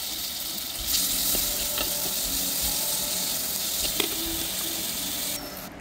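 Steady sizzling from food frying and being sautéed in a clay pot during night cooking outdoors, with occasional stirring scrapes and clicks; a continuous close hiss, no talking.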